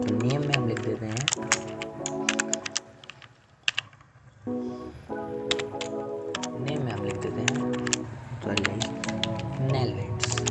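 Quick bursts of computer keyboard typing, fairly close, with short pauses between runs of keystrokes, heard under someone speaking steadily almost the whole time.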